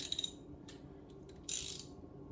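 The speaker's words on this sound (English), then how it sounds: "Then go ahead and unscrew the bolts I showed you earlier. A ratchet and a socket set" Ratchet and socket working loose the base bolts of a toilet, giving short dry clicking bursts with a quiet gap between them.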